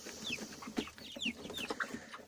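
Young chicks cheep and cluck in quick, scattered bursts as they are fed Standart Agro compound feed. The calls are fairly quiet and close, with short gaps between them.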